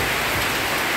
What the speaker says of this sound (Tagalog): pakita ko sa inyo ang lakas ng ulan